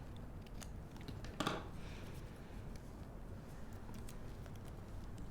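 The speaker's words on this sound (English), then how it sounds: "I'm going to just trim off those little tag ends." Scissors trimming the small tag ends off paper ephemera pieces for a pop-up card, heard as a few faint, close snips with one sharper cut in a quiet room.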